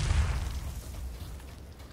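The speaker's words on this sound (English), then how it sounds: "Throwing a nade." A grenade explodes in the PUBG battle game with a deep, loud boom at the very start that rumbles and fades away over the next two seconds.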